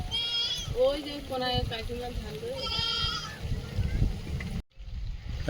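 Goats in a field crowded with cattle bleat repeatedly in wavering cries, fairly close, over a rough outdoor background with people talking nearby.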